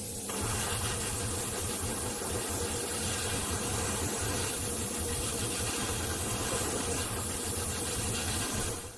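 An airbrush spraying chartreuse paint onto a fishing lure, a continuous close airy hiss that holds steady for several seconds and then cuts off.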